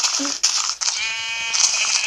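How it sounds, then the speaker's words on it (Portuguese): Sheep bleat loudly and continuously in a video game, several overlapping calls close up, with brief talk at the start. "tô no paraíso das ovelhas"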